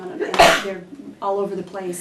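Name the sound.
a sneeze in a meeting room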